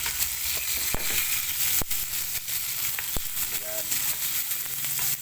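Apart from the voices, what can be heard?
sautéing onion, garlic and tomato in a pan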